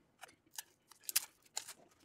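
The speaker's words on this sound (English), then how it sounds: "I'm going to crack open these cards." Wrapped board game cards for World's Fair 1893 Second Edition being torn open: a few quiet, scattered crinkly rips and crackles of plastic wrap, close and faint, with no voices.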